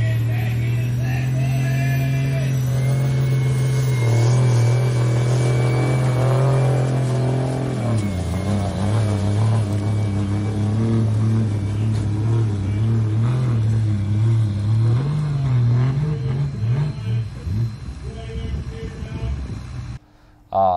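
A Cummins diesel engine in a junker drag truck revs hard and repeatedly at a dirt drag strip, a loud close rumbling drone rising and falling for about twenty seconds, with a voice talking over it.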